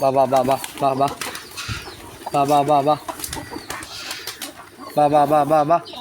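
Pigeons being fed rice grains and paddy at home during the rainy season, cooing in repeated bursts close by, with wing flaps and scuffling between the calls.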